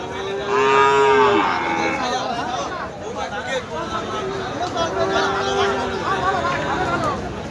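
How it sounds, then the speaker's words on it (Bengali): Cattle moo loudly and repeatedly at a cattle market, several long drawn-out calls near and farther off, over a background of crowd chatter and people talking. "ওদিকে ওই যে দূরে দেখাচ্ছে গরু গরুর অভাব নেই চারিদিকে গরু আর গরু"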